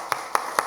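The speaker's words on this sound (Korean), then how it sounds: "우리 박수 한번 칩시다." A Korean church congregation claps during a Sunday sermon, with three sharp, evenly spaced claps sounding fairly quiet over a low, steady room hum.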